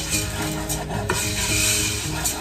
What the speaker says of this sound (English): Again, stir to just evenly coat everything.